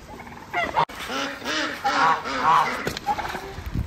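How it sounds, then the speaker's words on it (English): Geese honking loudly and repeatedly, overlapping nasal calls close by in a noisy, rhythmic chorus. "Listen to those noisy geese."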